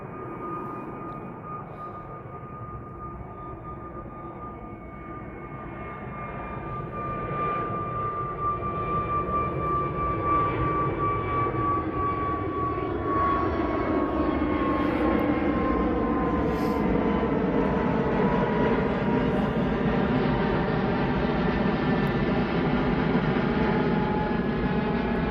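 Aircraft engines drone at Manchester Airport as a distant plane's steady roar slowly builds and swells, with a faint descending whine layered over the broad rumble.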